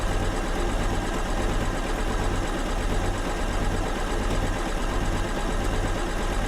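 Sewing machine stitching a quilt top at higher speed, a loud, steady mechanical whir with a fast even pulse running throughout, close and with no talk.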